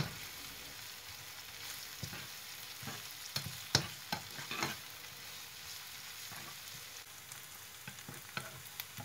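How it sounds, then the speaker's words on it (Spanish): Onion and garlic sizzle steadily in a pan over moderate heat, with a utensil scraping and stirring in irregular clicks and bumps, the loudest strokes near the middle, no voices present. "Pondremos a fuego moderado removiendo hasta que la cebolla esté transparente y tome un tono dorado"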